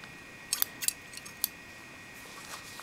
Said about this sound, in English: And you cut the threads the same length.